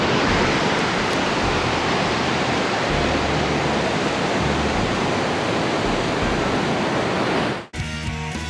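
A river rushing through a lava tube in Oregon, a dense, loud, continuous roar that cuts off abruptly near the end.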